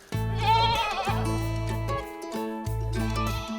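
Goats on a working herd operation bleat loudly and close by, three long wavering calls in a row with short gaps between them, heard alone without talk.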